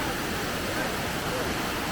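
A waterfall in Songkhla Province, Thailand, roars as a steady, dense rush of falling water filling the whole clip without pause.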